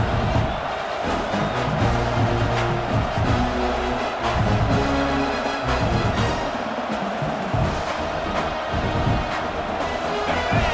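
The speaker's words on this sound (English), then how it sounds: "Fourth down, and this crowd is making it miserable" A stadium crowd roars loudly on fourth down in a college football video game, Ohio State versus Michigan, a dense continuous swell of voices and noise with no clear break.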